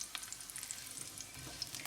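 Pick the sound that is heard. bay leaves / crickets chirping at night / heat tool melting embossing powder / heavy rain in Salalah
bay leaves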